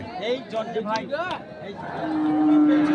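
Several Sahiwal bulls and other cattle moo close by at a Dinajpur cattle market, one long low bellow rising near the end, amid the bustle of a busy outdoor crowd.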